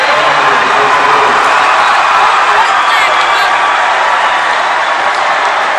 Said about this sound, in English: And now again, the Bedford crowd on their feet here in Durham.